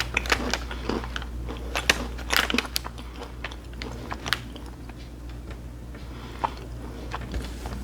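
Repeated crunching and chewing of an extruded fried Indian snack, close-up with irregular bites and crisp cracks, steady low hum underneath, no talking.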